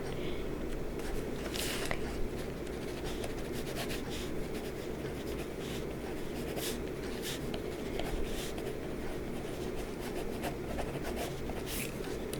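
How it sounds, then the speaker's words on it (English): Pen scratching on paper as a name is written onto a classroom attendance list, close and quiet, a continuous soft scribbling with small strokes and pauses, set in a calm whispery roleplay scene. "I'll just write you down."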